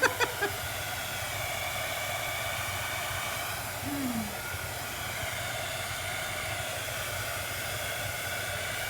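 A hair dryer blows steadily, a loud constant whooshing hiss that fills the whole stretch, with a few brief knocks at the start.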